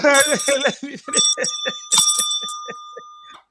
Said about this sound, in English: Let's make a ring bell for you again